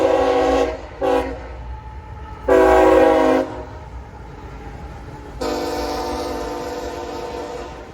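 A short local freight train with a two-engine lash-up and about ten cars sounds its horn in several loud blasts, some brief and some held, over a steady low rumble of the train passing nearby.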